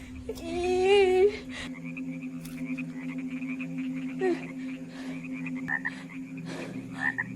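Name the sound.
frogs croaking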